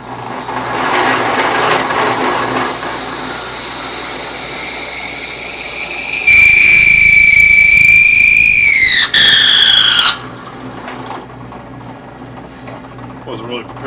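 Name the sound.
power drill boring a hole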